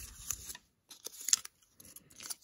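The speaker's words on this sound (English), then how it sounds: "I just cut the little end piece off that was on this end." Scissors snip a small end piece off rosette ribbon or fabric, a few short crisp cuts with brief paper-like rustles between them, close and quiet with no talking.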